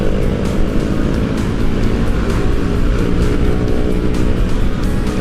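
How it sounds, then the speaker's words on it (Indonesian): An Uwinfly T90 electric motorbike ridden at speed, heard as a loud, steady rush of wind and road noise with a continuous whine and no talking. "ini kita coba speednya di berapa mentoknya ini"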